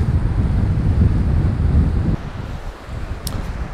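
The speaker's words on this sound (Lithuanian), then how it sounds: "Kalnų upė" A cold mountain river rushes with a steady, broadband roar, nearby and loud. Gusts of wind buffet the microphone and fade partway through.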